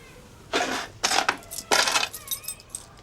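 A bunch of keys is handled, giving three or four bright metallic jingles in quick bursts, close and clear against a quiet room.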